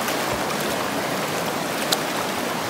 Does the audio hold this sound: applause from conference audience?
no